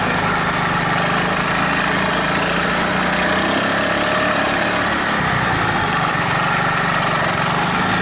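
A 1981 Honda ATC185S three-wheeler engine running loud and close while downshifting, a steady buzzing drone with subtle changes in revs across the gears.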